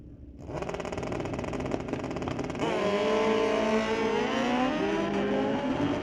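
Drag racing motorcycles at an NHRA Division 6 ET Finals at Mission Raceway Park rev loudly, then launch with a surge into a sustained, rising high-pitched engine scream that holds strong to the end.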